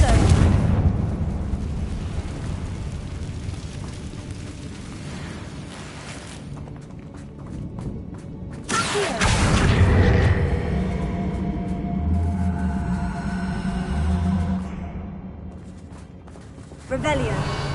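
Confringo fire spell exploding in Hogwarts Legacy, a heavy booming blast with a rumbling tail amid dense game noise, followed by a second loud burst midway and a sudden hit near the end.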